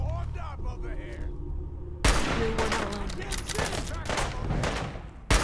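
Gunfire in the video game Fallout 4, with dense bursts of loud, rattling shots erupting after a quieter stretch and continuing in heavy volleys, mixed with game sounds and voices talking underneath.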